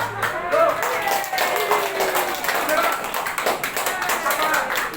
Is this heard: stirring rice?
no